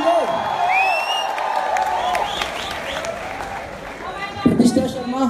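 Crowd applause and cheering greet guests at a college event, a steady wash of clapping with scattered whoops, fairly close and loud, while someone talks over it and the noise swells near the end.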